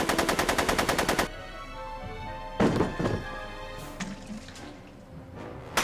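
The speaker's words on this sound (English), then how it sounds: "Are you shooting at me?" Rapid machine-gun fire in the Back to the Future video game: a fast, even burst of shots for about a second, followed by a couple of isolated heavier blasts amid quieter game noise.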